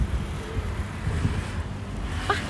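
Strong wind buffets the microphone on a trip to the Rayong seaside in Thailand, giving a constant low rumbling roar with gusty swells and no talk.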